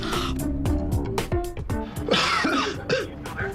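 Several coughs and throat-clearing bursts over a busy background with faint music-like tones, some harsh and close, spread across a few seconds.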